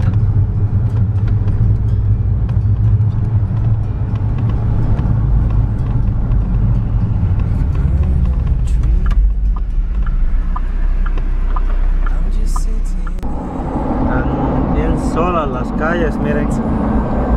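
Traffic on a quiet, fairly empty neighborhood street: a continuous low rumble of passing cars, loud and close at first, then easing as the engine noise fades, with a voice and brighter sounds entering near the end.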